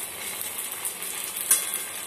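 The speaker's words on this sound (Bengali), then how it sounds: "আর আমি কড়াইতে তেল দিয়েছি, তেলের মধ্যে ছোট এলাচ দিয়েছি আর ছানাগুলোকে ছেড়ে দিয়েছি।" Chhana pieces frying in hot oil with small cardamom in a wok, a steady close hiss of sizzling with a brief sharper crackle near the end, no voices.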